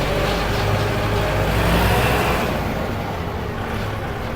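A Kubota L5018SP tractor runs in fourth gear, its diesel engine giving a loud, close, continuous rumble with a steady drone. The sound eases slightly toward the end.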